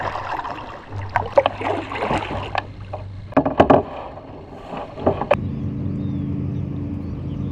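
Kayak paddling on a bay of Lake Wisconsin, with irregular splashes and paddle strokes near the microphone over a low hum and some wind noise, no speech.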